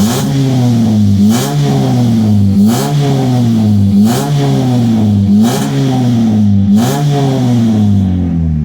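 A Chevrolet HHR engine revs repeatedly, rising in pitch then dropping back, about six loud cycles in a steady rhythm with an idle rumble between.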